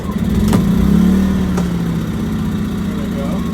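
Predator 2000 inverter generator engine catching and settling into a steady, loud mid-pitched hum with a couple of brief sharp clicks early on, while a person talks over it.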